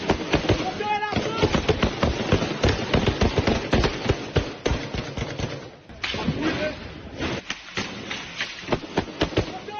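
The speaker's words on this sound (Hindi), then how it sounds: "केन्या की पुलिस और हेती विद्रोहियों में गोलीबारी हुई है।" Gunfire between Kenyan police and Haitian rebels: a dense, loud barrage of sharp cracks and thuds in rapid irregular bursts that keeps going for about ten seconds with only brief lulls.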